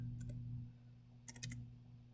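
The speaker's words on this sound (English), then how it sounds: "type in 75," Number keys tapped on a computer keyboard, a quick pair of clicks followed by a tight burst of four or five keystrokes, close and fairly faint over a steady low electrical hum.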